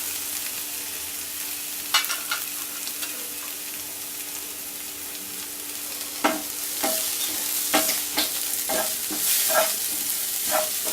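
Ginger garlic paste sautés in a pan with a constant close sizzle, while intermittent sharp scrapes and taps of a spoon stirring land more often in the second half; no one speaks.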